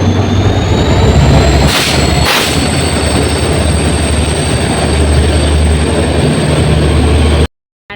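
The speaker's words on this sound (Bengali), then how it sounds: "আর এই দেখো আমাদের ট্রেন প্ল্যাটফর্মে ঢুকে যাচ্ছে" A Shatabdi Express on the Guwahati to Naharlagun route pulls into the platform with a loud, continuous rumble, broken by two sharp clanks about two seconds in and followed by a brief cutoff at the end.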